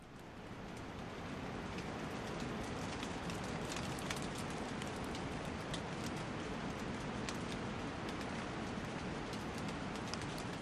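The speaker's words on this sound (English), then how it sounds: "You're listening to Post Rain Rainforest Drizzle. It was recorded on Vancouver Island in Pacific Rim National Park." Steady post-rain drizzle in a temperate rainforest in Pacific Rim National Park on Vancouver Island, with a dense, even hiss of drops on leaves and scattered louder drips, fading in over the first second and then constant.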